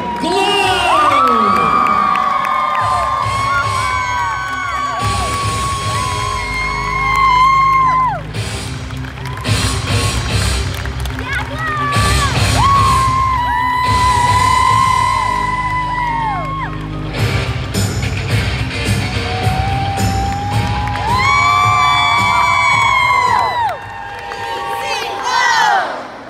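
A large arena crowd cheers and whoops loudly as cheer team Elite Cheer Glow takes the floor at a Rockstar cheerleading competition, with children's shouts and screams rising in repeated swells over nearly thirty seconds.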